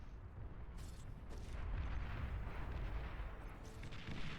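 Artillery in the Beyond All Reason strategy game booms in a low, rumbling barrage, several distant thuds blending into a steady roar of explosions and fire.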